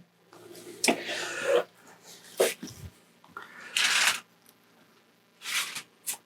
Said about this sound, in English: this machine is spraying quite nicely